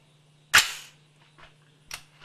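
Two rifle shots from a 6.5 Grendel AR-15 at an outdoor shooting range: a sharp, loud report followed by a brief decaying tail, then a second, somewhat quieter shot about 1.3 seconds later, with no talking.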